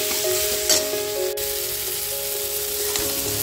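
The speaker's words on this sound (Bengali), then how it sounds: "তো চলো এরপর খুব ভালো করে একটু সময় ধরে কষে নেবো" Garlicky spinach masala with tomato, turmeric and a little sugar sizzles steadily in a pan, a continuous close frying hiss with a couple of faint stirring scrapes.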